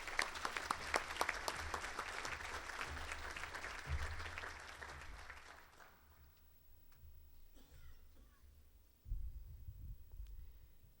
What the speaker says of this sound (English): So round of applause, please, for our mining partners,